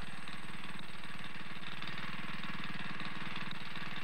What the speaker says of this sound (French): Tu entends? Un moteur.